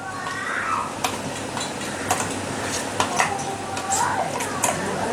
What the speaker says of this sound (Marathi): आता हे वाटण व्यवस्थित परतून घ्यायचं